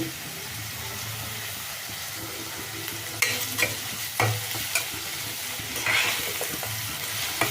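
Salted eggplant (brinjal) pieces fry in a hot pan with a steady sizzle while a spoon scrapes and stirs them in several sharp, close clatters, no voices present.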